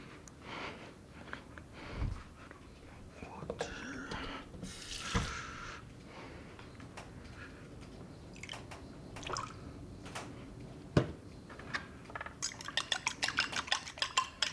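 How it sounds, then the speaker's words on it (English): Eggs are whisked in a bowl for chicken katsu batter, giving quick rapid clicking and tapping of a utensil against the dish. Scattered kitchen clinks and clatters come before, and the whisking builds into a fast rhythmic burst near the end. "So just beat the eggs"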